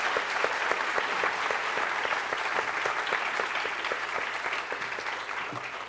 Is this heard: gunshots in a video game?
no